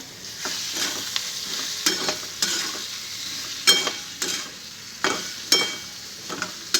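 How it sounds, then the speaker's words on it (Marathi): A potato curry with onion frying in a pan is stirred with a spoon, giving repeated sharp scraping strokes at an irregular pace over a soft, continuous sizzle; no one talks. "आता चांगलं हलवून घेऊत आता"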